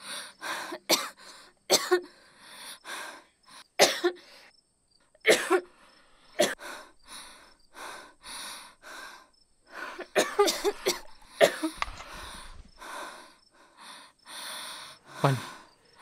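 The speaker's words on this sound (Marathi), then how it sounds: "4 दिवस झाले तुझा खोकला जात नाही." A person coughs repeatedly in a home setting, a run of harsh, close coughing bursts with some throat clearing and gasping breaths between them, spread irregularly over the clip with brief pauses, and no speech.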